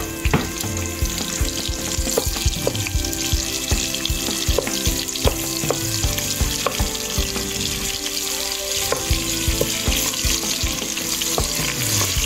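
Onions and garlic fry in hot oil for a rice dish with beef and shrimp, a loud, close, continuous sizzle with repeated clicking and tapping throughout and no voices.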